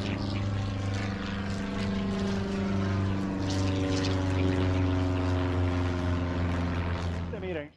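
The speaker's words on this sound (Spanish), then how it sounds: "se puede ver los aviones despegando" Propeller airplane taking off near the airport in Miramar, Puerto Rico, a steady loud droning engine hum with strong harmonic tones held throughout, rising slightly in pitch at the end, with no talk over it.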